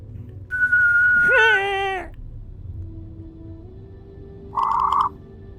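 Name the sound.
person imitating a whistle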